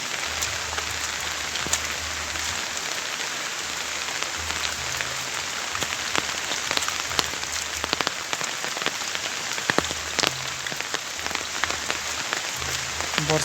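Heavy, unbroken rain falls on a rural farm beside a pond, a thick hiss of drops on surfaces with scattered sharper splats, constant throughout and with no one speaking.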